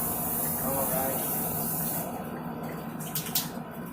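Close aerosol spray can hissing steadily while a desert-brown coat goes onto a homemade thumper grenade launcher, with a few short bursts near the end.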